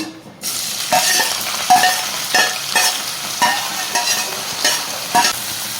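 Dry fish sizzles loudly in a hot pan while a spatula stirs it, giving a string of rhythmic scrapes and clatters about every half second over a steady frying hiss.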